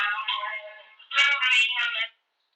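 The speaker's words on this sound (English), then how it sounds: "Someone's calling me." Phone ringtone from an incoming call, a bright electronic melody playing in two phrases with a brief gap between, close and clear before cutting off into silence.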